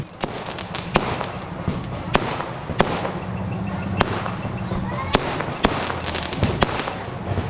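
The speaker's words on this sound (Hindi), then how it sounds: "पटाखे बेटर क्वालिटी के हैं।" Firecrackers burst at an outdoor BJP victory celebration in Bihar, sharp cracks popping every second or so over a steady background rumble of crowd and drums, with no speech.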